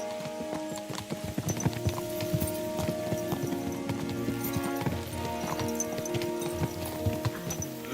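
Horse hooves in Kingdom Come: Deliverance 2 as the rider moves out, a steady run of clopping beats that goes on throughout over constant ambient game sound and soft music.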